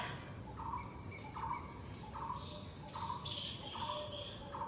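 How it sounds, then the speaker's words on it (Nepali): Birds chirp outdoors in a quiet rural spot, a series of short, evenly spaced calls repeating about once a second over a steady background hiss, moderately distant and alone. "चराहरू कराउँदैछ"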